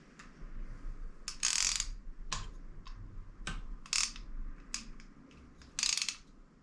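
Ratchet wrench clicking in short bursts while tightening connecting rod bolts on a Honda CBR1000RR engine, close and fairly loud with quiet pauses between strokes.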